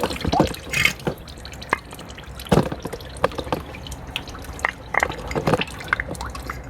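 Coolant dripping and splashing from an open drain on a Land Rover Freelander during a timing belt and water pump job, irregular close drips and trickles landing in liquid, with no talking.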